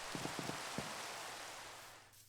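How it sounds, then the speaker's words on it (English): Rain falls steadily in the game Minecraft, forming a constant hiss of broadband noise with a few soft thuds early on before the sound fades slightly at the end. "it has been raining like crazy"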